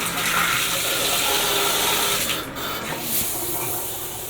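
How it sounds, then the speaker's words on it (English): A hotel suite shower at a Quality Suites near Milwaukee airport runs steadily after its head is screwed back on, a close, continuous hiss of water spraying at moderate pressure, unbroken throughout. "Yep, the shower works."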